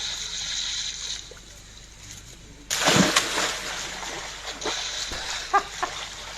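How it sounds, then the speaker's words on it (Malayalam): A stone thrown into water hits with one sharp, close splash, followed by sloshing and dripping that fade over a few seconds. "കല്ലെടുത്ത് വെള്ളത്തിലേക്ക് ഇടുന്നു,"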